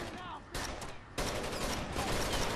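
Gunfire aimed at the player in Rainbow Six Vegas 2, dense bursts of rapid shots in a loud continuous volley, broken by a short lull before the firing resumes harder.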